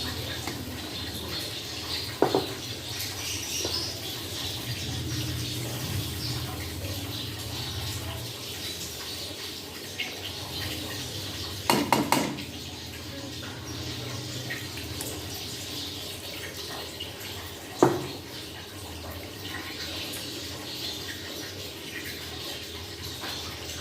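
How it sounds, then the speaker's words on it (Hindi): Water is poured into a pan of spiced, fried kofta curry to make gravy, a steady splashing rush for several seconds that eases off, with a few sharp clinks of utensils. "अब इसमें थोड़ी सी ग्रेवी बनाने के लिए पानी डालेंगे, थोड़ा सा।"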